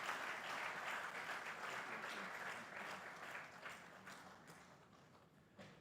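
Sustained applause from an audience at Baze University's seventh inaugural lecture in Nigeria, a dense wash of many hands clapping together that holds steady and then gradually tapers in loudness.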